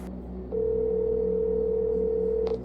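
A phone call's ringback tone holds as a single steady electronic tone for about two seconds, loud and close, then cuts off, with faint room noise before and after.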